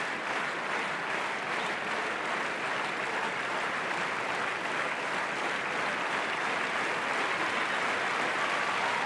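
A stadium crowd at a Diamond League athletics meeting applauds an athlete, dense, continuous clapping that holds steady throughout.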